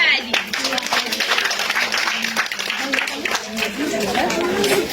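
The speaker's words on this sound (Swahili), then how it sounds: "Tupigie makofi tafadhali." Audience at an early childhood education centre graduation ceremony applauds steadily, a dense wash of hand claps with crowd chatter running underneath throughout.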